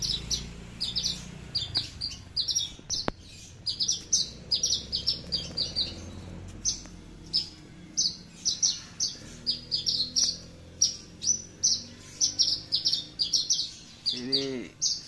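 A Javan bush lark, a branjangan kept as a cage bird, sings a rapid run of bright chirps close by, many of them doubled, with short pauses between phrases and no voices.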